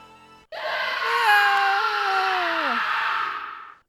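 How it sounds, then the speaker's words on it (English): A man's drawn-out scream from the 1994 Konami game Snatcher on Sega CD, a single loud wavering wail that bends downward near the end before cutting off. "A male scream."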